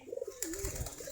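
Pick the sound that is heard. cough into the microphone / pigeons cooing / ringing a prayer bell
pigeons cooing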